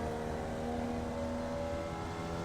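Formula Vee engine at full throttle in the iRacing sim, accelerating hard out of a corner after a downshift to third at Circuit de Ledenon; a steady, loud buzzing engine note rising in pitch throughout, with no talk.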